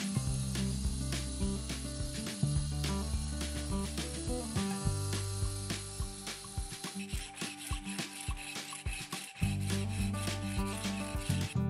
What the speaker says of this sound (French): vous m'avez vu poncer, disquer, vous m'avez vu couper et enlever de la pierre